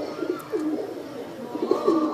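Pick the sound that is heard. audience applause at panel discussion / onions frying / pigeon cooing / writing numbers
pigeon cooing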